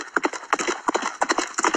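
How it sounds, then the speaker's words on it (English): A horse gallops in a quick, rhythmic clip-clop of hooves, beats grouped in the steady three-part pattern of a gallop, clear and close. "The horse galloped through the night."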